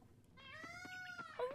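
A single drawn-out cat meow from the farming game Coral Island, faint and rising at the end, with no talking.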